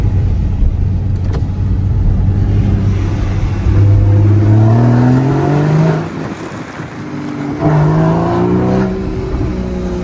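A Porsche Cayman S (981) engine revs up and down nearby, its exhaust rumbling loudly with a few sharp pops between the climbs in pitch.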